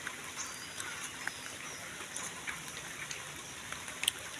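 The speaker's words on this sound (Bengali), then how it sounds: "বৃষ্টি দেখেন, সমসম শব্দ, বৃষ্টি নামতে আছে" Rain falls during an evening walk outdoors, a steady soft patter with scattered sharper drop ticks, fairly faint and continuous.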